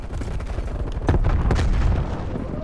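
A grenade blows up in Call of Duty: Black Ops Cold War, a sharp, loud burst surrounded by rapid gunfire cracks and low rumbling booms of battle.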